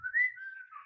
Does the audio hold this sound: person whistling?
yes